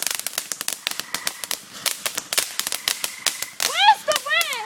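Fireworks and firecrackers go off in a fast, irregular crackling barrage of sharp pops, some nearby and loud, followed by rising whistling streaks, with excited voices shouting and talking throughout.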